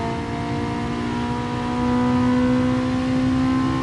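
A car engine in GT Sport holds a steady, loud revving drone with a sustained tonal note that climbs slightly in pitch midway, heard alone without talk.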